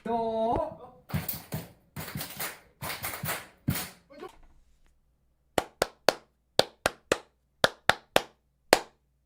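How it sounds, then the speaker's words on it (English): A voice first, then several bursts of clapping, followed by a sharp sequence of single hand claps in a rhythmic pattern with gaps between groups. "prepare yourself for a good clap"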